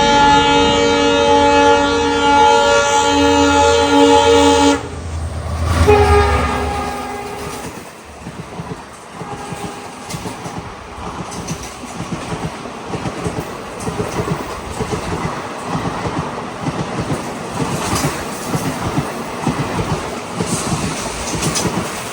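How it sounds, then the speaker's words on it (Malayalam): Intercity express train in India heard from another train held at a crossing on a single line: a long loud horn blast, then a steady rhythmic clickety-clack of wheels passing close by. "അപ്പോൾ അങ്ങോട്ടേക്ക് വന്നൊരു ഇൻട്രസിറ്റി വരുന്നുണ്ട്."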